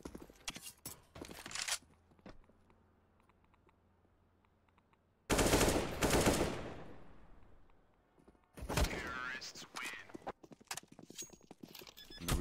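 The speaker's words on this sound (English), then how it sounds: "Bottle just dinked him with a FAMAS at that range there" Counter-Strike: Global Offensive match with sharp rapid bursts of in-game rifle fire at close range, separated by quieter stretches of footsteps and clicks, plus a longer loud sweep of gunfire and effects midway.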